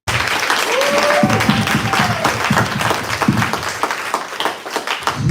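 Applause at an awards event honoring women in commercial real estate: a full room claps warmly and steadily, close and loud, with scattered voices and cheers rising beneath it before it thins out toward the end.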